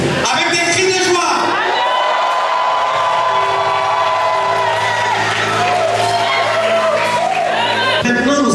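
A church congregation shouts and cheers with joy, a loud sustained roar of voices and whoops filling the room, with a voice speaking over the crowd.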